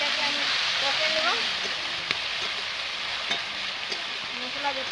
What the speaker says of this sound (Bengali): বাটা মশলাটা আমি ভালোভাবে এটাকে আমি কষে নেব